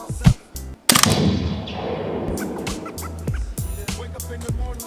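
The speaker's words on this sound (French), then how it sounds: "on va me faire une petite formation et je vais voir ce que je donne au tir" Gunfire during French Army shooting training: a few loud, sharp shots with reverberant tails, followed by a sustained, busy mix of further bangs and tonal noise, with no talking.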